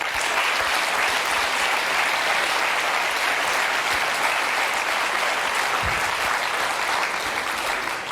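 A studio audience at a French television show claps continuously, a dense, sustained wash of applause at even loudness with no voices standing out.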